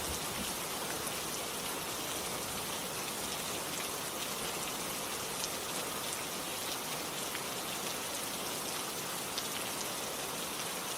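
Rain falls steadily in a dense, even hiss of countless drops, constant and moderately loud throughout with no voices or other sounds.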